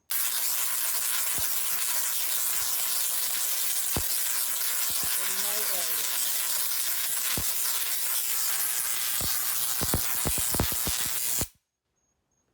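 Oven switched on in a mad-scientist cookie experiment with a metal object, giving a loud continuous electric hiss and buzz broken by sharp crackling arc snaps, then cutting off abruptly near the end.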